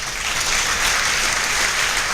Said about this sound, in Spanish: Con un aplauso te lo entregamos,